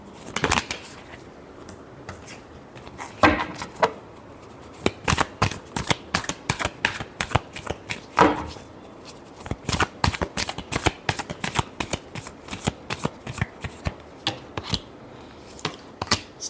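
Tarot cards are shuffled by hand in quick crisp riffles and slaps, loud and close, repeating in irregular bursts with no talking.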